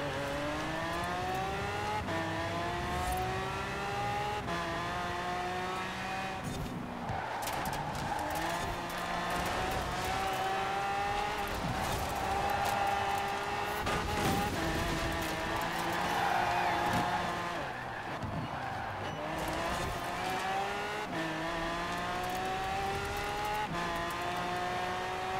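A Noble sports car in Forza Horizon 4 revs hard and accelerates through repeated gear changes, with rising engine tones and some tire squeal, loud and close throughout.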